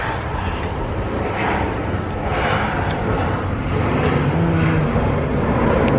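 An airplane flies overhead at night, a steady loud engine roar that swells gradually, with faint rhythmic clicking from the surroundings.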